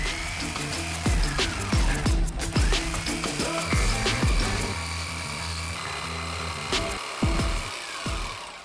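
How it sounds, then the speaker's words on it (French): Repeated sharp cutting strokes from a reciprocating saw cutting metal on a VW T3 Syncro van, close and loud, in short bursts with brief pauses between cuts. "alors séance découpage à la scie sabre"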